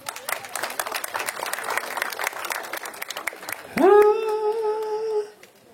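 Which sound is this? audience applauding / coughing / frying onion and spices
audience applauding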